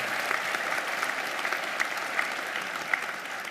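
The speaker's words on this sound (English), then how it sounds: "I think that deserves a round of applause for them." A hall audience applauds steadily at a business school graduation ceremony, a dense, even patter of clapping with scattered sharper claps and no talk.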